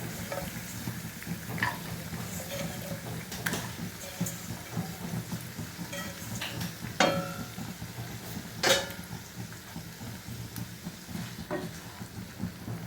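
Garlic, carrot, capsicum and red and yellow bell peppers sautéed in oil in a pan for a beef steak side: a steady, moderate sizzle with repeated stirring scrapes and a couple of sharper utensil knocks against the pan.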